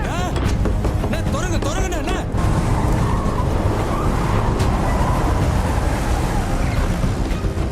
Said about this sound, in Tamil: இத்தனை வெஹிக்கிள்ஸ் வந்துட்டு அங்க ரேஸ் ஆகிட்டு இருக்கு